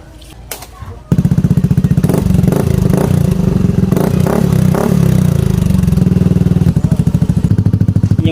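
A Yamaha Aerox v2 scooter fitted with an Akrapovic exhaust idles after a starting burst, its steady low, throaty exhaust burble running evenly and loud up close, with a few brief blips along the way.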